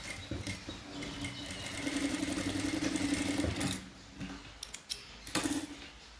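An electric sewing machine runs steadily while stitching a half-inch seam on formal trousers, a continuous whirring hum for about four seconds followed by a few faint clicks and fabric handling sounds.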